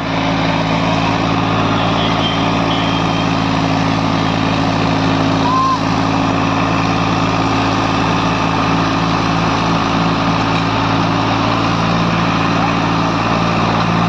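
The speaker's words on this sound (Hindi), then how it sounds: "स्लिप मार गया ट्रैक्टर बिल्कुल ही चल नहीं रहा दोस्तों" A tractor engine labours under load while pulling a 9x9 harrow through a field, a loud, continuous droning hum with steady tonal drone and no letup, heard close with a voice briefly over it.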